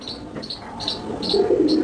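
Chandarkhani pigeons coo nearby in soft, low rolling calls, with a few higher chirps from small birds repeating in the background.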